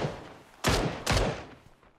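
Two loud gunshots from a video game crack close together, each with a short decaying tail over faint background noise.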